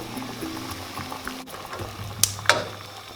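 Water bubbling at a steady boil in a covered pot holding ackee and jackfruit, a soft continuous simmer with a low hum and a couple of sharper clinks near the end.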